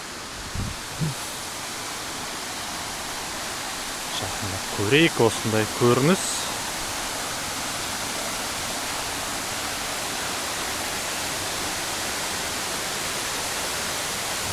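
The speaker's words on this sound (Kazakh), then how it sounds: "Мынау жаңағы кіреберісте тұрған, жазу тұрған Сарқырама waterfall." A waterfall in Tbilisi, Georgia, gives a steady, even roar of falling water that fills the whole clip. Someone speaks briefly over it near the start.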